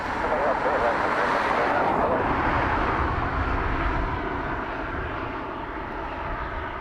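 A Ryanair airliner takes off from Dublin Airport. Loud, broad jet engine roar fills the whole clip and slowly fades, with someone talking over it.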